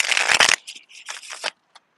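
Rapid papery riffling of a deck of tarot cards being shuffled outdoors at a cemetery, a burst of crisp flicks followed by a few softer bridging riffles and a final tap.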